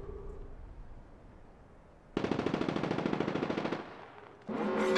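Close, loud automatic gunfire in the video game Apex Legends: a sustained rapid burst of evenly spaced shots lasting over a second, then a short pause and another burst starting at the end.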